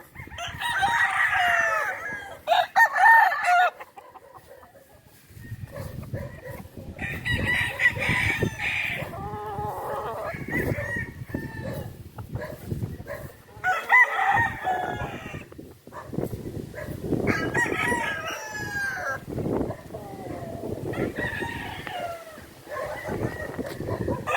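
Roosters crow repeatedly amid clucking hens on a farm in Urdaneta, Pangasinan, loud and close, with a busy flock calling over one another throughout.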